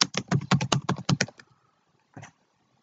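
Rapid typing on a computer keyboard, close and crisp: a quick burst of about a dozen keystrokes, then a pause and a single final key press.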